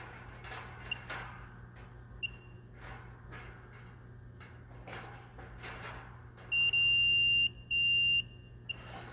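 A multimeter set to continuity gives two sustained high-pitched beeps while its probes test a Kenmore Elite dryer heating element, loud and close, preceded by faint clicks and handling noise.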